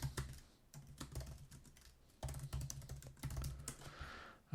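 Rapid typing on a computer keyboard during a music production session, with close, crisp key clicks arriving in uneven bursts and short pauses and no voices.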